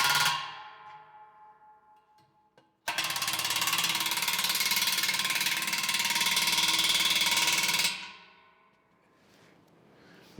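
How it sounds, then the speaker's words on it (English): Nut on a wedge-style concrete anchor being run down with a powered ratcheting tool in a workshop, a single loud sustained burst of rapid mechanical clicking lasting about five seconds, then fading out. "As we tighten this nut up, the anchor should get tighter in the concrete."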